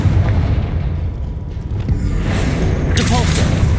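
A Confringo spell blast from the Hogwarts Legacy game lands as a loud, deep rumbling boom that swells and lingers, with a brief sharper burst near the end.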